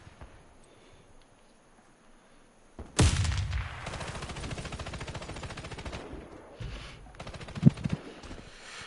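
Light machine gun fire in the shooter game Warface, a sudden loud sustained burst of rapid shots after a quiet start, continuing with dense rattling and a sharp spike near the end.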